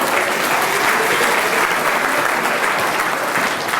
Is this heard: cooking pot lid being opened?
no